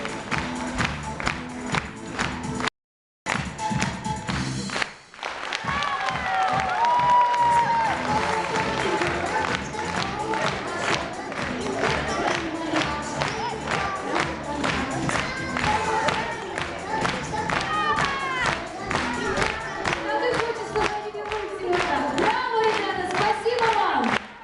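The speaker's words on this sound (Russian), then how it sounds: "Ваши аплодисменты, уважаемые зрители." Audience applause at a choir concert, steady rhythmic clapping from a crowd that continues for over twenty seconds after a brief silence, with some voices mixed in.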